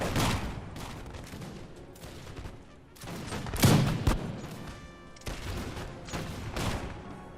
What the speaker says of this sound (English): Grenadiers are going to start getting shot at. They're going to return fire.